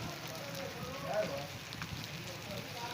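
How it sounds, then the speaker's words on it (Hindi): Heavy monsoon rain in Taxila falls as a steady, dense hiss of drops hitting surfaces, continuous and fairly close, with a voice talking faintly over it. "खासी तेज़ बारिश ने संगियो"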